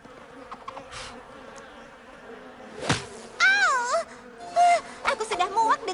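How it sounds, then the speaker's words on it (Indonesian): Buzzing flies in a My Little Pony: Friendship is Magic cartoon scene, a loud, wavering insect drone that rises and falls in bursts, close up, mixed with whining, moaning voices. "Aku sudah muak dengan lalat mengerikan ini."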